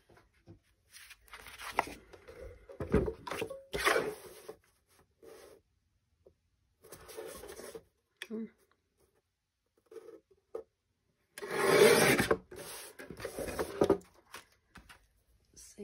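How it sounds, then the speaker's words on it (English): A blade or scissors cuts a thin sliver off a cereal box for a DIY art journal, giving intermittent close scraping and crunching strokes of cardboard with short quiet gaps between bursts. "I'm just gonna cut off a sliver."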